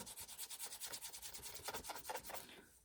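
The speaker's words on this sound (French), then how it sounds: "on va prendre la tranche et on va la poncer" Steady rhythmic sanding strokes along the cut edge of a piece of leather, a close, rasping back-and-forth rub repeating quickly for a few seconds before stopping.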